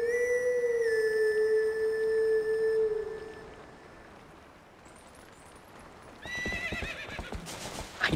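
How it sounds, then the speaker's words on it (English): In Zelda: Twilight Princess, a horse answers a call from the player in wolf form: a loud, long neigh with rising whinny, then near silence before quick galloping hoof clip-clops close in. "I didn't know you could call your horse as a wolf."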